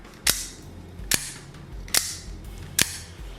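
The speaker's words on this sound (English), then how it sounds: "This is what the OTF sounds like." A Microtech Ultratech 2 out-the-front knife fires its blade four times in a row, each deployment a sharp, close metallic snap at an even pace, with quiet handling between them and no talking.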